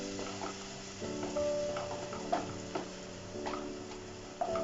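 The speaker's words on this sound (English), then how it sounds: "Stir it well." Chili powder and paste stirred in a pan while cooking pizza toppings, a soft scraping rhythm over a steady sizzle, with a few sharper clicks of the spoon against the pan rim.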